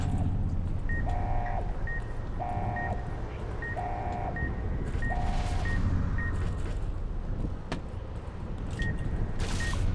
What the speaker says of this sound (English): Shut the alarms down.